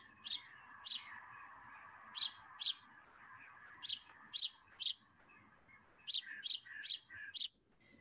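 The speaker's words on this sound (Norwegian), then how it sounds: "de har en liten sånn tjuping, som vi kaller det, liksom kvittring" Small birds chirp and twitter in quick bursts, several short calls clustered in groups over a soft steady background hum.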